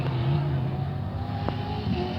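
A rally car races past at the Baja Portalegre 500 off-road rally, 2016 edition: a steady engine roar with no clear peak, heard at a moderate distance from the roadside.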